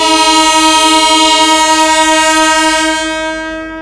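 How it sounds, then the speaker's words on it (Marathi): A MEMU train horn blasts loud and close, one continuous steady tone for about three seconds before tapering off, with no voices. "मेमो ट्रेनने पण हॉंकिंग दिली,"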